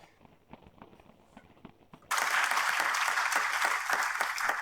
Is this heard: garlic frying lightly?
no